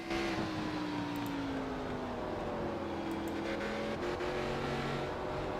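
Race cars roaring around an oval track during a USA series race, a continuous loud engine drone with pitch sliding downward as cars pass, and brief high squeals from tires layered on top.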